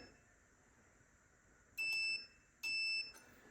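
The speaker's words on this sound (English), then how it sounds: "And this should test continuity. It should beep." A multimeter on continuity test sounds two sharp, high electronic beeps, each about half a second long, while probing the ground connections of a Hiwatt DR 103 amplifier build. The beeps stand alone against near silence.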